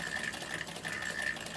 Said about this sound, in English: So this is a class 15 straight stitch 1924 sewing machine.